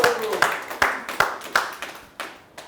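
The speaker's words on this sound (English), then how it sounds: "please give yourself a big round of applause" Scattered hand claps from a small audience at a business presentation, a handful of sharp separate claps spaced roughly evenly, moderately close, with faint voices in the background.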